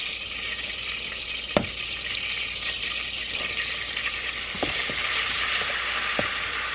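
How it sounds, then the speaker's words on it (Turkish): Flour toasting in melted butter for a béchamel roux, a steady close sizzle filling the pan, with a few sharp clicks of a whisk or spoon scraping the pot. "Ve unumu yakmadan kavuracağım."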